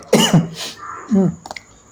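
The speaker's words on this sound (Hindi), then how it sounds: "सॉरी दोस्तों, खांसी आ रही थोड़ी सी।" A short fit of close, throaty coughing, two or three rough bursts in quick succession, with a couple of faint clicks afterward.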